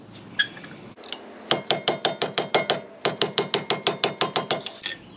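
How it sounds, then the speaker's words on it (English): Rapid hammer taps from a rubber mallet driving a ruined screwdriver against a brake pad retaining pin on a Porsche 911 996, two close bursts of sharp, evenly spaced metallic knocks with a brief pause between. "Here's where the ruined screwdriver comes in, and the rubber mallet. We're going to drive this pin back."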